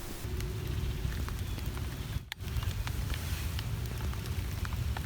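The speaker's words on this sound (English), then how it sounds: "It's starting to rain." Steady rain patters on a surface nearby, a soft continuous hiss with scattered drops and a brief dip midway.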